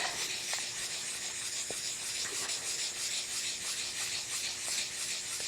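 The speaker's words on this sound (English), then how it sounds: "I'm just gonna rub it in a circular motion, just like this until those scratches are gone" Steady close rubbing and light sanding on the clear plastic of an Insta360 Ace Pro 2 dive housing, a soft continuous hissing scrub in circular strokes with faint ticks, quiet and without talk.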